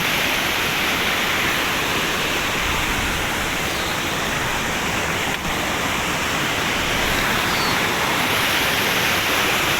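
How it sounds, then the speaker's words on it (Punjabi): River water on the hill road from Yol toward Palampur flows in a steady, loud, close wash of rushing noise that holds even for the whole stretch, with no voices over it. "ਆਪਣੇ ਸਾਹਮਣੇ ਨਦੀ ਦਾ ਪਾਣੀ"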